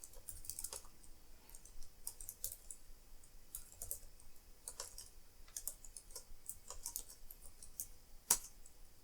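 Keystrokes on an Apple IIgs computer keyboard, faint clicks scattered in short uneven bursts with one sharper tap near the end, no voices.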